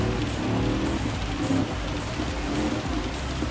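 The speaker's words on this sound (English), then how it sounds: "And the rain does look fantastic in GT7." Heavy rain in Gran Turismo 7, heard from the cockpit, makes a dense, continuous hiss of drops drumming on the car, steady and fairly loud with a low rumble beneath and no talk.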